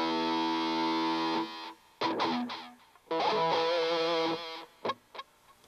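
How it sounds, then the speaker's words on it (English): Distorted electric guitar played through a Line 6 HD147 amp with tube echo delay, sustained chords and choppy stabs with repeats trailing after each phrase. "tube echo"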